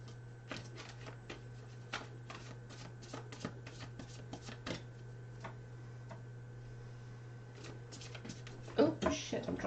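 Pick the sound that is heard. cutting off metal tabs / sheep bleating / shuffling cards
shuffling cards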